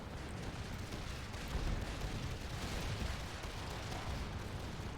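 Grenadiers firing their guns in a Total War video game battle, heard as a dense, continuous rumble of overlapping volleys with a few heavier swells, steady throughout and without talk.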